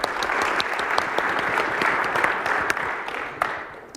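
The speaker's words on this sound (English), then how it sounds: "big applause." Loud, dense audience applause breaks out at a tech conference session, steady clapping from a large crowd lasting a few seconds before tapering off.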